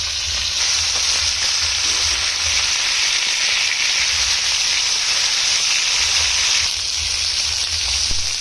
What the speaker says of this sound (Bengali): মাছটা ভালোভাবে তেলে ভাজিয়ে নিলে মাছটা ভুনা সেই মজা হইবে